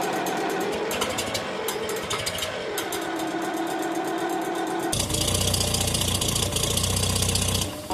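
An old tractor engine runs loud and close, its rough, knocking rumble shifting partway through as it settles into a steady, heavier idle that fills the rest of the clip.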